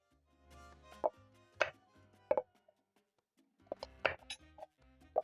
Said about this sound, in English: Once done, I'm going to chop off the ends of the carrots.